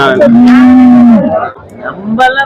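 Sindhi cattle at the Morepallayam cattle market give a loud, close, drawn-out moo, followed by a shorter second call after a brief pause.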